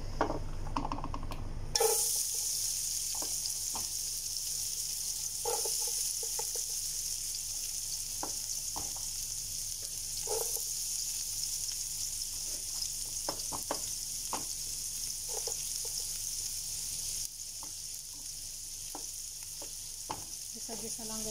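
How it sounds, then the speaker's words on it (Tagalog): Onion sautés in hot cooking oil with a steady, crackling sizzle that runs throughout, broken by occasional light scrapes and taps of a stirring utensil, fairly quiet and with no talking. "Gisa-gisa lang guys muna. Gisa lang natin yan."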